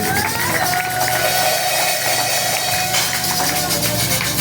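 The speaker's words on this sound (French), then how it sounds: "Il faut applaudir." Clapping from a congregation at a Sunday school poem presentation in a Kananga church, dense and rhythmic, mixed with crowd voices and a sustained sung or musical tone.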